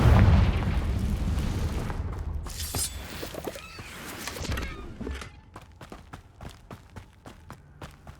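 A Confringo fire spell in the Hogwarts Legacy video game lands with a deep booming blast that rumbles and fades, followed by a run of quick, light footsteps.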